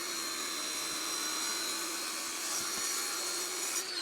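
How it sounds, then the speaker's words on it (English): An angle grinder cuts a steep mitre into a resin driveway edge, a steady high-pitched whirring grind held close and unbroken throughout. "I'm dipping the grinder in on a very, very acute angle right underneath"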